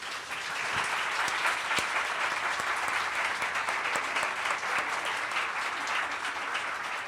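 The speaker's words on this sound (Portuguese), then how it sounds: "Eu queria a primeira rodada de aplausos para Carla Madeira." Sustained audience applause at a literary café event honoring an author, a full, even roar of many hands clapping that holds steady for several seconds without letting up.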